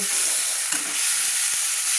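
Onion fries in hot oil after potatoes, a loud, steady, close-up sizzle with a couple of soft stirring knocks.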